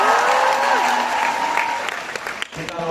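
An audience at a Kim Jiwon fan meeting breaks into loud, dense applause that starts at full strength, fades slightly near the end, and carries some crowd voices.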